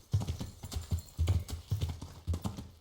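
Horse hooves clip-clop at a steady trot in the medieval game Kingdom Come: Deliverance, crisp and close with a regular rhythmic beat.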